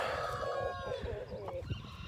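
A rooster crows nearby over a noisy farmyard bed of clucking fowl and scattered bird calls.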